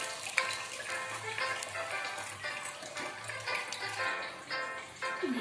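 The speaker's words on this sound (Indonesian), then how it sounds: "Ini gorengnya tidak usah terlalu lama" Chicken nuggets frying in hot oil, a steady close hiss and crackle of bubbling with a few sharper pops, heard alone without talk.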